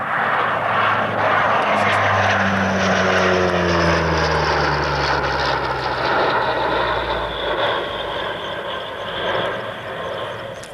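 A propeller-driven former RAF tactical transport aircraft comes in to land at the 1992 RAF Coningsby airshow, its loud, sustained engine drone sliding slowly downward in pitch and filling the whole stretch.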